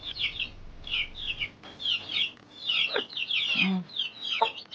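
A hen being given avian flu eye-drop medication clucks low once amid a steady stream of high, scattered chirps from other birds, fairly close and moderately loud.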